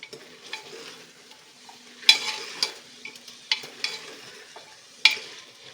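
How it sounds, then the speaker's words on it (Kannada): A spoon stirs chicken curry with a pinch of kasuri methi in a sizzling pan, giving scattered scrapes and a few sharp clinks over a low, steady frying hiss. "ಒಂದು ಸತಿ ಮಿಕ್ಸ್ ಮಾಡ್ಕೊಳ್ಳೋಣ"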